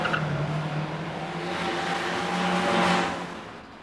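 A van drives along a street near a junction, its engine and tyre noise steady and fairly close, swelling slightly as it moves past with no talk.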